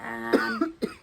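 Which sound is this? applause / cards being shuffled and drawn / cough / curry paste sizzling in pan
cough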